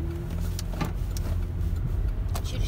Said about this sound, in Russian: поехали маленько прокатимся по пустым чистым дорожкам